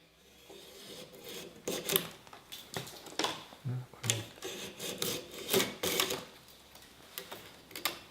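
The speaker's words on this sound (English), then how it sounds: "hold the strips down with the stick and pull the strip through" Bamboo strips dragged through a hand scraper while held down with a stick, giving repeated rasping, scraping strokes in an irregular rhythm, close and fairly loud with no talk over them.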